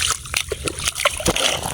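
Tilapia jumping and splashing in water while being netted, a series of quick, irregular splashes and sloshes heard up close, with faint murmurs in the background.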